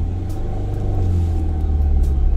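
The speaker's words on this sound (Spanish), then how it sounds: "Acelero más o menos que les pase el 2, las revoluciones de 2000." A car engine held at about 2000 rpm for a hill start, giving a steady, loud low rumble that stays even throughout with no talking.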